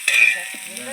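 Chicken biryani frying in a large outdoor village pot gets a quick stir, a short burst of close sizzling with a scrape of the ladle.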